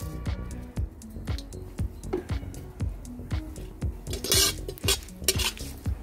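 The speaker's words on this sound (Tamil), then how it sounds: "இப்போ கடுகு நல்லா பொரிய ஆரம்பிச்சிருச்சு." Mustard seeds and urad dal crackle and pop in hot oil in a pan during tempering, with sharp irregular clicks and light scraping of a spoon against the pan.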